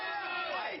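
A crowd cheers and shouts at a rhinoceros beetle fight in Phayao, Thailand, a brief, loud, close burst of many voices yelling together.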